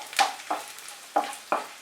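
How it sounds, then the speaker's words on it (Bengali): Whole garam masala, a bay leaf and small dried red chilies being stirred as they fry in hot oil, heard as four short scraping strokes over a faint sizzle, close up with no voices. "ফোড়নটাকে ফ্রাই করে নেব আমি"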